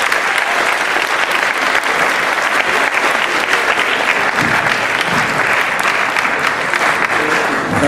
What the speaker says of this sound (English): if you'll give them a good Riverwood round of applause